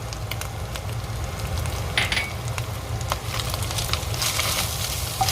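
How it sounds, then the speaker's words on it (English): Cumin, smoked paprika, cayenne, rosemary and thyme stir-fry in a pan, giving a steady, close sizzle with occasional scraping and clinks of stirring, without any voices. "Just stir fry it till it's fragrant."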